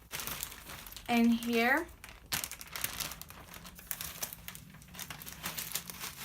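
Plastic bags of slime supplies crinkle and rustle in the hands, one loud close burst of crumpling followed by fainter handling noises while a person talks.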